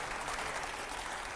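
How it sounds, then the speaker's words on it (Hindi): Audience clapping at a public event, a dense and steady burst of applause filling the short stretch on its own. "जोरदार तालियां"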